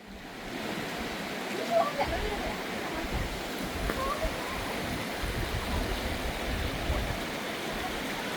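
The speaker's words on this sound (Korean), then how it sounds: "멋진 기암절벽을 배경으로 청량한 물소리가 아주 일품이었습니다." A stream in a volcanic valley below rocky cliffs rushes as a steady, broad wash of water noise, constant and moderately loud throughout.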